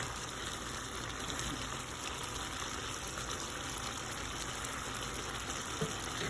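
Chicken and potato pieces simmer in water in a pot, giving a steady, close bubbling and gushing wash with light sizzle, continuous and even throughout with no talking.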